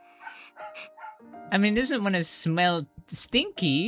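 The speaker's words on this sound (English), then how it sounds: "so sorry about the stupid dogs barking outside" Dogs barking outside, yipping and whimpering in a lively high-pitched series of barks, heard clearly while a person talks over them.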